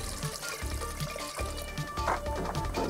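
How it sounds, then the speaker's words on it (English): Water pours into a cooking pot holding potatoes, peppercorns and bay leaves, a continuous splashing, gurgling stream with small clinks, moderately quiet and close. "Add water."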